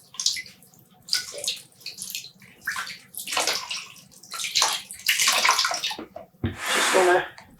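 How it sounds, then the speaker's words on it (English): Freshly dyed yarn is squeezed out by hand over a kitchen sink, water sloshing and dripping in uneven splashes, with a louder gush of runoff near the end and a faint hum underneath. "squeezing out the water."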